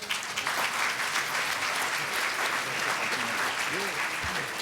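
Hearty audience applause at a police reform and accountability town hall, a close, sustained burst of many hands clapping, with a few voices calling out near the end.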